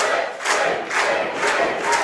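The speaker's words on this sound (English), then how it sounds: "And you hear the crowd." A wrestling crowd at a GLWA show cheers and chants for Tripp in loud, pulsing waves of voices that swell roughly twice a second.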